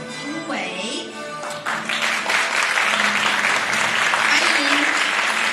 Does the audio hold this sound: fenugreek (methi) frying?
no